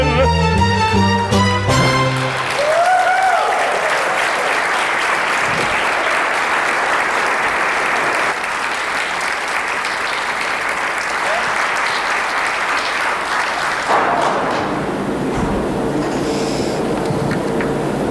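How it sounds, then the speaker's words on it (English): Audience applause at a Broadway-themed benefit concert, starting right after the closing notes of a song and swelling into loud, sustained clapping that fills the hall for many seconds before thinning out. "How about another round of applause?"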